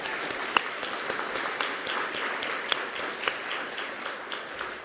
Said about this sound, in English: How about a quick round of applause for the RBFF staff for this amazing program so far?